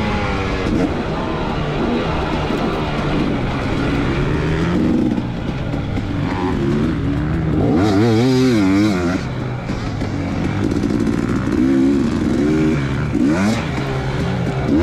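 A 2019 KTM 250xc dirt bike lapping a High Desert MX motocross track, its engine loud and close as it revs continuously, rising and falling through shifts and throttle bursts without letup.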